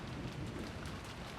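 Steady rain falls in the visual novel game Umineko, a dense continuous patter of drops on surfaces with a low rumbling undertone, alone and even in loudness with no voices.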